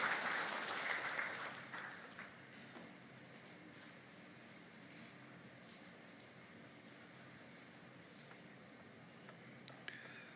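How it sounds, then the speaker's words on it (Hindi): An audience at a formal government event claps to welcome the chief guest, a burst of applause that is strongest at the start and then fades into a faint, scattered patter, heard from a distance. "जोरदार तालियों के साथ अभिनंदन हमारे मुख्य अतिथि"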